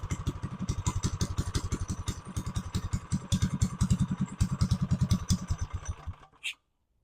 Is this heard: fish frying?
no